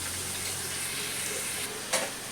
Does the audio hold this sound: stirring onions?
yes